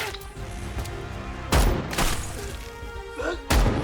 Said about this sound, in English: The police caught up, and gunshots echoed through the forest.